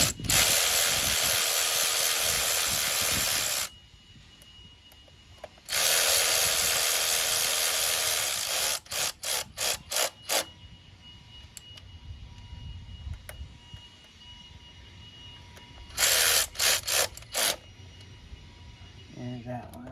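A ratchet tightens bolts on the power steering pump of a Ford Freestar, giving long loud stretches of harsh clicking followed by quicker separate clicks, close by, with a person talking at times.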